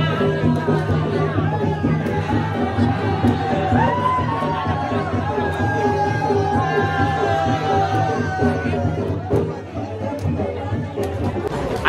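A crowd at the Vadhav Bahiridev yatra village festival fills the air with dense chatter and shouting, a continuous loud hubbub with voices rising and falling throughout.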